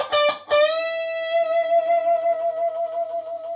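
A distorted electric guitar note rings out after two quick picked attacks, bent upward and then held as a long singing sustain that slowly wavers and fades.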